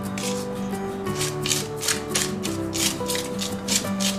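Hand whisking of cream for a German pie: a steady, rhythmic scraping beat of the whisk against a bowl, close and continuous, with a faint musical tone underneath.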